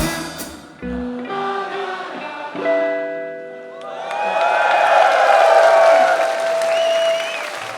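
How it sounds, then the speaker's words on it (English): A concert crowd at a rock festival cheers and applauds loudly after a song, with tonal music or feedback fading in the first seconds and a swelling roar of clapping and shouting in the latter half. "That's the crowd."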